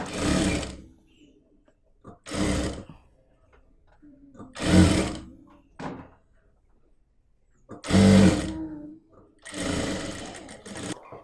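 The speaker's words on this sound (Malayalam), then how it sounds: "ഈ ഭാഗം സ്റ്റിച്ച് ചെയ്യുമ്പോൾ ആം ഹോളിൻ്റെയൊക്കെ കറക്റ്റ് അളവിൽ ഇതുപോലെ വളച്ച് വളച്ച് വേണം സ്റ്റിച്ച് ചെയ്യാനായിട്ട്." A sewing machine stitches a curved armhole seam to attach the sleeve of a top. It runs in loud, close bursts of a few seconds each, separated by brief pauses.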